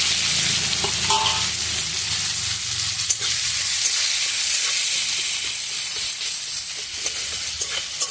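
Crushed garlic and chopped onion fry in hot oil with a loud, continuous sizzle and crackle, stirred now and then, with a low rumble underneath and no talking.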